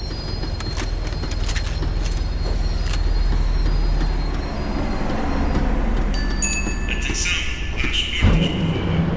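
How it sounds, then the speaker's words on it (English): A tram rolling and slowing down in the Max Payne 3 video game, a loud continuous rumble of rail wheels with rising metallic squeals and clanks toward the end. "The tram was slowing down, and I'd only just gotten on board."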